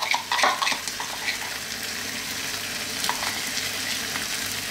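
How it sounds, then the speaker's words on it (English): Lamb dopiaza curry with spiced yogurt stirred in a hot pan, a steady close sizzle with a few brisk scrapes and clinks of the spoon near the start, no voices. "You need to keep stirring pretty much all the time now for about another 5 minutes."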